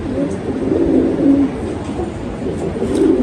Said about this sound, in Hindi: बड़ा शानदार कबूतर है जी